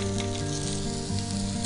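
Kebab shallow frying in oil on a tawa, a brief steady close sizzle with dense crackling and no talking.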